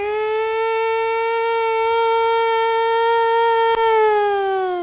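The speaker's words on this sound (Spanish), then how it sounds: "Por eso existe esa sirena, ¿ves? En el pueblo." A town siren sounds with one steady, loud, tonal wail, rich in harmonics, that holds a near-constant pitch throughout with only a brief interruption near the end.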